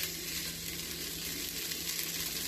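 Pasta ingredients stir-frying in a pan, a steady dense sizzle with a constant low hum underneath, close and continuous without pauses.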